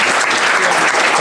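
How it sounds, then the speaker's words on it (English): An audience at an expo luncheon applauds a motivational speaker with dense, steady clapping from a crowd. "let's give him a round of applause"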